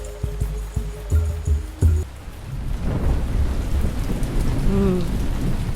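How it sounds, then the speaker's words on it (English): Heavy rain with thunder in the video game Ancient Cities: sharp cracks and booms at the start give way to a steady, dense roar of rain on surfaces, loud and close throughout. "That's a lot of rain."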